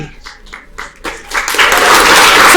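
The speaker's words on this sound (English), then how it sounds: "my applause to you" Audience applause swells in after a few brief opening sounds, growing into a loud, continuous wash that carries on to the end.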